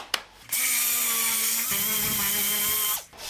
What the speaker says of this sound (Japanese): まずは80番のペーパーで削っていきます